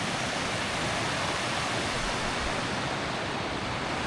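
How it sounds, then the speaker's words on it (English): Loud, continuous rushing water fills the clip, a dense broadband roar like a fast river close by, with no voices. "As you can hear, the water is quite loud."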